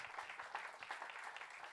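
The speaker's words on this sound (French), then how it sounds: "on peut l'applaudir très fort" A TV studio audience claps as a singer is invited on stage, a steady, soft wash of dense applause with no talking.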